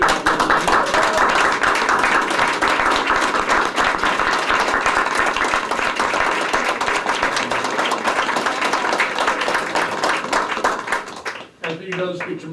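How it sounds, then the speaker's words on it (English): At a school district board meeting, a room claps in a long, loud, dense round of applause for two staff members, which fades near the end as voices begin. "give Mary Strushley, Allison Silvestri a round of applause for a great job"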